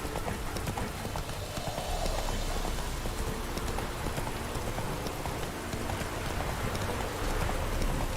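Roach's hooves clip-clopping steadily at a trot in The Witcher 3, moderately loud and continuous over rain and ambient noise, with no talking.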